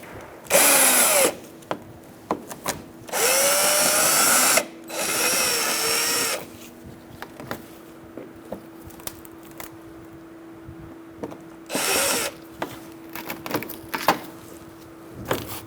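A power drill with a Phillips bit backs screws out of a 2012-2017 Hyundai Accent during A/C condenser work, in several short bursts of high whirring separated by quiet pauses and faint clicks.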